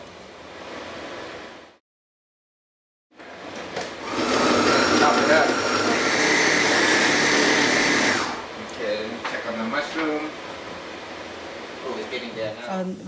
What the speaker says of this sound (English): Throw the chicken in the blender.